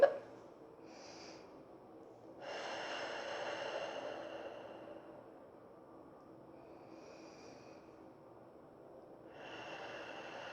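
Three slow, deep breaths at the end of a hand massage exercise, each a soft, airy inhale and exhale heard close and quiet, separated by near silence.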